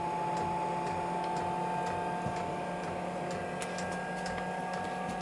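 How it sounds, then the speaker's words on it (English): A diesel heater's air pump runs during startup, a steady low hum with a faint rhythmic ticking over a constant mechanical drone, moderately quiet and close. "What you're hearing is actually, oh no, it is the air pump."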